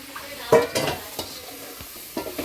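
Chopped onion and tomato tempering sizzles in a pan during home cooking, broken by a few sharp scraping stirs and clinks of a spoon against the metal over a steady hiss.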